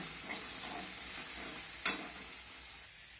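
Vegetables frying with chili powder in a pan while being stirred for cauliflower-leaf curry, a steady close hiss of sizzling with a sharp scrape near the middle before the sizzle drops away at the end.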